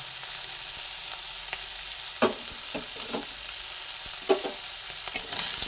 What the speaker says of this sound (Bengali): সব দিয়ে আবার একটু ভেজে নিচ্ছি আদার যাতে কাঁচা গন্ধটা না বেরোয়